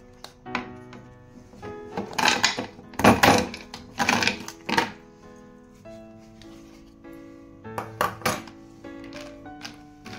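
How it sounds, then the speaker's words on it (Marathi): Frozen mint cubes are knocked out of a tray onto a plate, giving a string of sharp knocks, clatters and hard taps in irregular bursts, close by. "ते आता काढून घेऊया प्लेट मध्ये"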